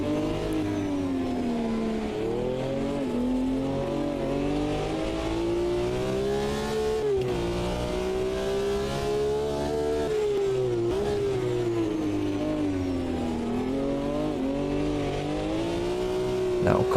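Race cars in a classic-car championship racing video game hold a steady, loud engine drone that rises and falls through the corners, running without a break the whole time.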